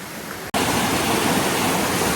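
Waterfall in the Cocora Valley near Salento, Colombia, a steady broadband rush of falling water that starts abruptly after a short quieter moment and continues loud and close with no speech.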